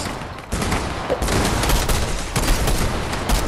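Dense sniper rifle and other weapon fire in a Fortnite match, loud and continuous, with rapid overlapping shots and no pauses.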